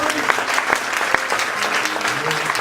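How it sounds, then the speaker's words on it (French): A church congregation claps for the Lord in dense, sustained applause, many hands close and loud, with a faint murmur of voices underneath. "Clap for the Lord."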